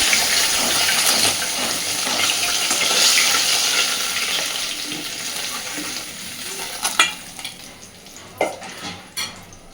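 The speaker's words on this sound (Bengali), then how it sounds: "সবকটা মাছকেই সুন্দর করে ভেজে নিয়েছি, এইবার তুলে নিচ্ছি।" Fish pieces fry in hot oil with a loud, dense sizzle and stirring that gradually thins out, then gives way to sharp scrapes and clatters as the fish is lifted from the pan. No one talks.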